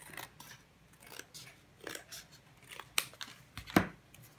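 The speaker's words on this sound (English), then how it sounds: "Just cut the edges. And cut this part off." Scissors trimming the edges of a junk journal page, producing a few scattered snips and crisp cuts at close range, with soft paper handling between them and no talking.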